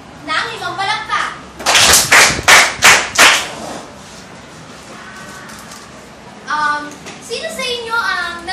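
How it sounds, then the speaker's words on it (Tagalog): A classroom of students claps five times in unison on a teacher's cue, crisp loud evenly spaced claps, with children's voices and a teacher talking before and after. "nais kong bigyan ang inyong mga sarili ng 5 palakpak"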